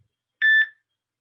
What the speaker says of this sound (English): There's a timer I have going on my phone to keep me on track.